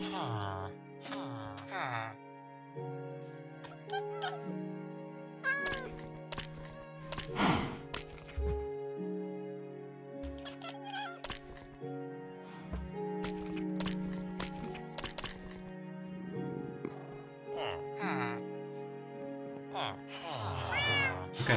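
Several Minecraft cats meow repeatedly in short, overlapping electronic mews, with block-breaking knocks and a person talking throughout the game.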